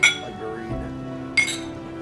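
Glasses clink together in a toast during a bourbon-sipping evening, two brief bright chinks about a second and a half apart over a quiet, low background.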